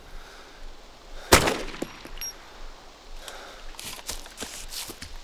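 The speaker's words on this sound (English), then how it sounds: "That was me shooting at him." A single sharp gunshot fired by a player in DayZ, loud and close, with a short echoing tail, followed by faint rustling footsteps and small scattered clicks.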